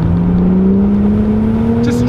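A Ford XR6 Turbo Sprint FG X Falcon with its turbocharged Barra straight-six pulls hard under acceleration, a loud, steady engine drone rising smoothly in pitch throughout, heard from inside the cabin.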